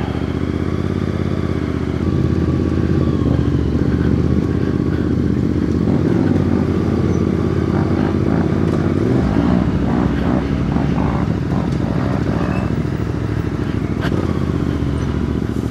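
A CFMOTO 450MT adventure motorcycle rides an alpine off-road trail through deep, soft mud. Its engine drones loud and steady throughout, with clattering mixed in.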